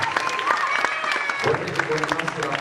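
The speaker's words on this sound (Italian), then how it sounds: "vorrei che continuasse l'applauso" An audience applauding two artists, with steady dense clapping throughout and a voice speaking over it.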